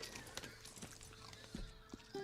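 Video game horse hooves clip-clop in a quick, uneven series of soft thuds, faint and low in level, over a quiet background.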